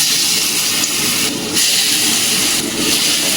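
Gondho bhadali leaf fritters dropped one by one into hot oil, a loud, continuous frying hiss that swells in a couple of brief bursts as each fritter goes in, with no speech.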